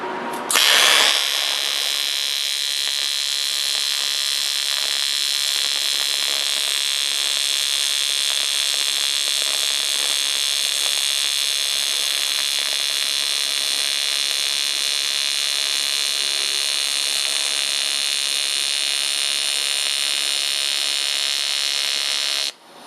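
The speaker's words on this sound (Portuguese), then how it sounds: "a gente vai iniciar a soldagem." Torch welding with a continuous filler rod, a steady loud hiss and buzz that starts abruptly and holds evenly for over twenty seconds before cutting off, with no one talking.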